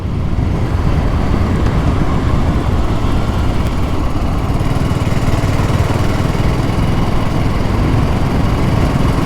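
Single-cylinder BSA Gold Star motorcycle engine holding steady high revs, a loud continuous drone heard up close from the rider's position with wind rush, smooth and unbroken throughout with no voices.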